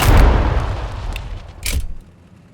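Primary cannon of a tank firing in Warhammer 40K Battlesector, a single heavy booming blast that decays, followed by a second sharp report and rumbling tail.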